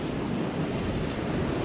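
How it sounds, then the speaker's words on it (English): Sea waves on the Northumberland coast splash up against the side of the shore in March after breaking farther out, making a constant broadband wash of surf mixed with wind rumble. "any big waves that are coming in are breaking further out, and by the time they get here they're just splashing up off the side"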